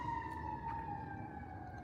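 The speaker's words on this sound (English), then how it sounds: "there goes the ambulance. It got louder." An ambulance siren wails steadily at mid distance, its tone holding and sliding slightly as it passes, growing a little louder over a low background rumble.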